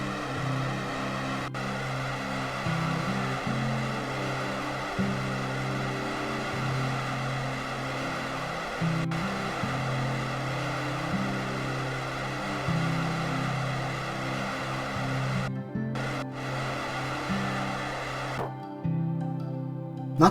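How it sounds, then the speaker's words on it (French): A steady droning rumble of a rocket engine firing to slow a probe in modded Kerbal Space Program, continuous and even for most of the stretch, then cutting off abruptly near the end. "Je rallume le moteur pour que la sonde ralentisse autant qu'elle le peut."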